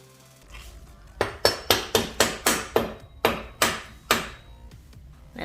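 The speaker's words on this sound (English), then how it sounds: "I love this rubber mallet." A rubber mallet strikes motorcycle wheel parts on a BMW F 750 GS / F 850 GSA, about a dozen loud, close, sharp knocks in an uneven rhythm with brief ringing decay, no talk.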